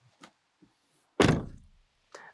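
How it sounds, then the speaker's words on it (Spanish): Rear door of a Mazda MX-30 R-EV closing with a single solid thunk near the mic, ringing out briefly, with faint small clicks and rustles before and a softer bump after. "Me tendrían que ayudar a cerrar la puerta."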